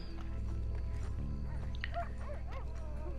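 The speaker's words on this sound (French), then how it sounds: "On entend un chien par là." A dog barks repeatedly in the open world of the video game Red Dead Redemption 2, moderately distant and set against a steady ambient game soundscape with a low rumbling bed.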